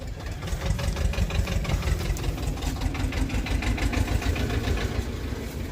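A tractor with a trolley idles at a straw auction at a grain market in Kotkapura, Punjab, the engine chugging in a steady, close knocking rhythm that holds evenly throughout with no talk over it.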